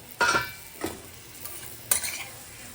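Bottle gourd curry being stirred in a pan over low flame, with three separate scraping stir strokes spaced about a second apart and a faint sizzle between them, no voices.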